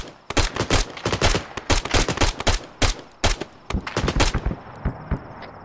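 Rapid bursts of automatic machine gun fire in the military shooter Arma 3, loud and close, with sharp repeated cracks in quick clusters and no talking over them.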